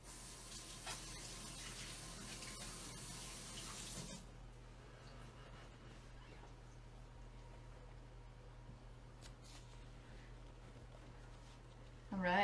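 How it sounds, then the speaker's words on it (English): Tap water runs steadily into a sink as sourdough is rinsed off hands, loud for the first four seconds and then quieter, a low continuous hiss with faint clatter. "I'm just going to quickly rinse this dough off my hands."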